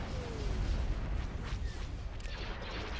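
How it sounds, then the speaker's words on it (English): Ion cannon fire in the Star Wars game Thrawn's Revenge, a dense, steady roar of heavy booming blasts that rumbles continuously without pause, with no voices. "Ion cannon firing."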